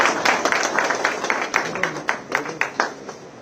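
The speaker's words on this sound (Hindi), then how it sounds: "सब ताली बजाकर" Crowd clapping at a Congress party political rally in India, a loose burst of handclaps with distinct individual claps standing out over a dense spread, moderately loud and fairly close throughout.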